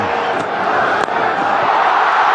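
A cricket stadium crowd at an India vs New Zealand ODI final roars in a steady, loud, broad wash of cheering that holds without a break.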